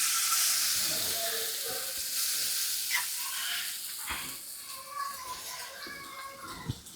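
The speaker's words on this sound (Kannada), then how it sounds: "ಸೊ ಇವಾಗ ನಾನು ಹಿಂಗೆ ಕ್ರಷ್ ಮಾಡಿರೋ ಅಂಥ ಗಾರ್ಲಿಕ್ನ ಆ್ಯಡ್ ಮಾಡ್ತಾ ಇದ್ದೀನಿ" Crushed garlic sizzles in a hot pan, a soft continuous hiss with occasional crackles and scrapes as it is stirred, fairly quiet throughout.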